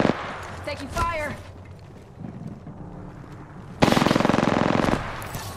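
Gunfire in the video game Apex Legends crackles in a rapid automatic burst near the end, after a few earlier shots, with voices and wind-like background noise.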